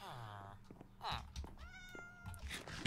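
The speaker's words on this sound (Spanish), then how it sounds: "Hay un gato aquí." A Minecraft cat meows several times in short electronic mews, moderately close, with a Spanish-speaking voice talking over and between them.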